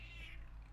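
A pet cat gives one short, faint meow over a low background hum.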